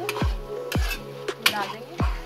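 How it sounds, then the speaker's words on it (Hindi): A spoon stirs fried okra (bhindi) into masala in a pan. It makes four or five scraping strokes and knocks against the metal over a soft sizzle, close up with no speech. "अब मैं इसमें साइड की हुई भिंडी मिक्स कर दूंगी और इसे अच्छे से"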